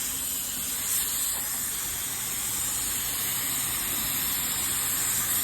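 A spray gun lays a wet coat of paint onto a car, a steady unbroken hiss of atomized spray running loud and close from start to finish with no talking.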